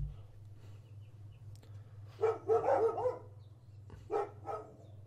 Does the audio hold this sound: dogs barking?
yes